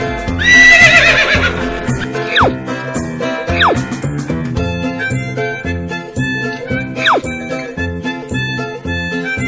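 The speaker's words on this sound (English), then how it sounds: "Horse." A horse whinnies loudly several times over music, each neigh a shrill, falling cry, with hoof clip-clops mixed in.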